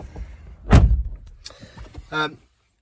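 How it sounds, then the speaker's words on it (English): A Mini Countryman car door thumps shut nearby with a low, solid thud, followed by faint interior clicks and a short electronic chime. "Close that door."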